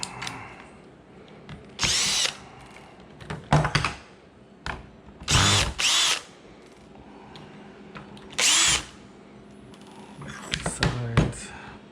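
A power driver with a number 2 bit backs out the end cap screws on a TM22G lithium battery kit, giving several short loud whirring bursts with quiet handling noises between them.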